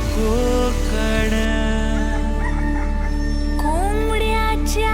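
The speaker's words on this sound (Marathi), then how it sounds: "कोंबड्याच्या आरवण्याचा आवाज" A rooster crows at dawn in rural Konkan, Vaibhavwadi, its drawn-out call rising over a dense, steady bed of village ambience and other birds, loud and close throughout.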